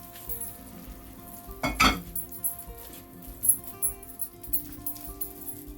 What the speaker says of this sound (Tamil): நான் இப்போ ரெடி பண்ணி வச்சுக்கிற ரேயில் இதை ஊற்றுறேன்.